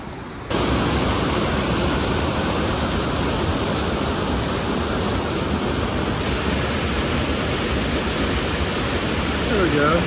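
The creek below Nevada Falls in Yosemite rushes loudly and continuously, a broad steady roar of flowing water close by that holds without a break.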